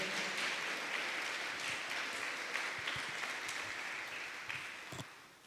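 Quiet, distant audience applause fills a church, steady clapping from many hands that slowly fades toward the end, with a few sharper individual claps standing out.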